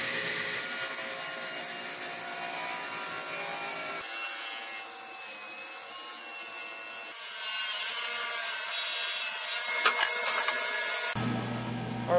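Continuous sawing of wooden blanks cut from pallet wood, rough, rasping strokes, fairly close, shifting in pitch and texture across several short sections with no voices.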